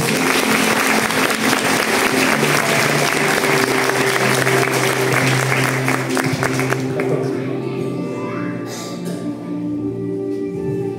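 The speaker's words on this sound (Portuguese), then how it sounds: "E eu queria uma salva de palmas para eles." A crowd at a book launch in Munhoz applauds the speaker's children, dense loud clapping for about seven seconds that then thins and fades, with some voices and a low hum underneath.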